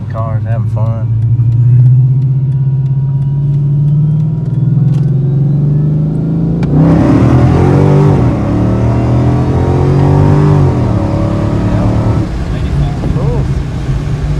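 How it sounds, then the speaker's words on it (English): A 2013 Dodge Challenger R/T, cammed with a 2.9 Whipple supercharger, is heard idling loudly nearby, then bursting into a hard, rising acceleration about halfway through that carries on strongly. A voice talks in the early part. "That was a good little kick right there"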